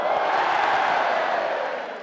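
A large crowd of nearly 100,000 football supporters cheering at an open-top bus parade through a city centre, a dense continuous roar that stays loud and then tapers off slightly at the end.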